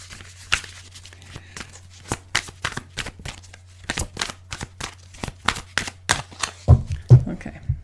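A tarot deck shuffled by hand, a run of quick riffling and snapping card bursts in uneven rhythm, close and fairly clear, with a low hum beneath and a few knocks at the end.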